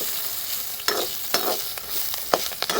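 Curry leaves crackle and sizzle in hot oil in a pan for a sweet pumpkin curry, a steady frying hiss broken by a few sharp spattering pops and scraping stirs, fairly close and with no talk.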